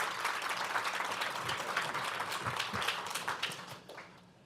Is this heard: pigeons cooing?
no